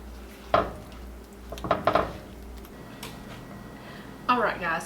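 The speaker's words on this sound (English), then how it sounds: "go ahead and turn your heat off and give it a nice toss just to coat the meat in that parsley" Chipotle steak bites are tossed with parsley in a hot skillet, the heat switched off, giving a few short metallic clatters and scrapes in separate bursts, fairly close, over a low kitchen hum.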